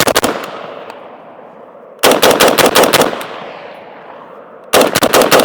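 An SG36 rifle firing .223 rounds from a magazine on an outdoor range, loud close bursts of rapid shots in three groups, each followed by a long echoing decay, with no talk.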